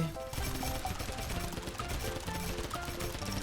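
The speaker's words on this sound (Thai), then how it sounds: "เราก็จะเจอกับฝูงซอมบี้มากมายเลยนะครับเราก็ทำการยิงเลย" Rapid, continuous gunfire blasts at a horde of zombies in the video game Mini World: CREATA on the SMASH TV map, a dense unbroken clatter of shots layered with game effects throughout.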